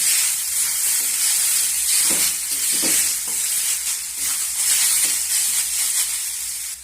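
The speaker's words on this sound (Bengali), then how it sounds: "এখন আমি সবজিগুলো আবারও নেড়ে চেড়ে নেব।" Vegetables sizzle and hiss in a hot pan over medium heat while being stirred, with a few soft scraping strokes over the continuous frying.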